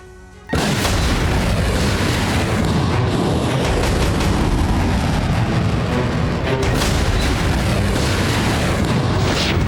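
Heavy explosion or artillery strike in an attack on Ukrainian forces, a sudden loud boom followed by a sustained roaring rumble that carries on without a break.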